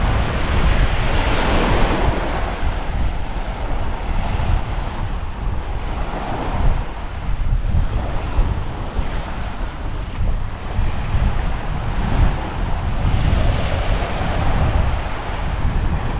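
Indian Ocean waves wash up on a beach at Guraidhoo in the Maldives, swelling and receding in slow surges amid steady wind noise on the microphone.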